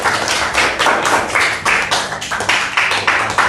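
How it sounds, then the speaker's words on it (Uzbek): Children clap for the prize winners in a classroom, a steady burst of rhythmic hand clapping from a small group, close and loud throughout. "Qarsaklar sadosi olsin."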